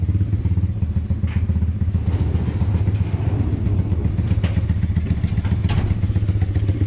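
A Pitgang 140XD pit bike engine drones loud and close while riding in cold, windy weather, a steady low rumbling putter with rattling clatter and occasional thumps over the whole stretch.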